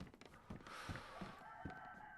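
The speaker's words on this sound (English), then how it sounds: "Oh, we can hear a chicken." A chicken clucks in the video game DayZ, a series of short, quiet clucks at a distance over low background ambience.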